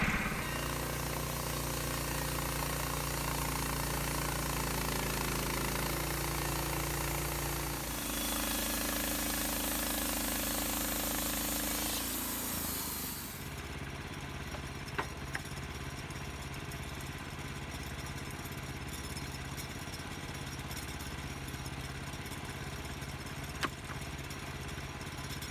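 A sawmill runs a loud, steady engine and saw drone while cutting the heart out of a white oak log, then drops back to a lower idling hum for the rest.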